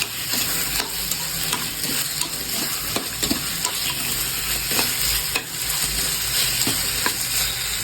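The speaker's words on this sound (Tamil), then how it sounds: "அடுப்பை மீடியத்தில் வச்சு வதக்கிட்டே இருக்கணும்" Country chicken with black pepper sautés over medium heat in a pan, with a loud, continuous sizzle under repeated stirring scrapes and spatula knocks, close up and with no voices.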